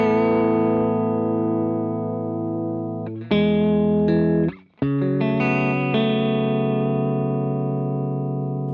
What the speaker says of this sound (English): Sticky tape is going for more of like that generation loss or like retro reel kind of thing,